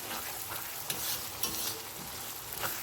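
Spices sauté in hot oil, about to take hot chili powder, with a close sizzling hiss broken by a few sharp scraping stirs of a spoon against the pan over a short span.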